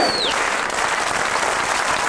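A crowd at a 1995 HADEP election office gathering in Diyarbakır applauds, a loud, dense, sustained clapping close by with no break.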